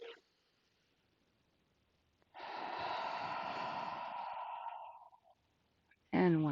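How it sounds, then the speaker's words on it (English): A slow, deep breath during a chest, hip and balance workout: a long, steady airy exhale lasts a couple of seconds, then a short sharp inhale follows, close and alone. "deep breath in through the nose, filling the belly, feeling that expansion. And release through the mouth."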